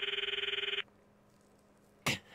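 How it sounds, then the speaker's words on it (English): Phone call ringing tone in a video game, a rapid pulsing electronic trill lasting under a second, followed by quiet and then a short sharp burst of another sound. "I stopped the video and called Mayuri's phone from my address book."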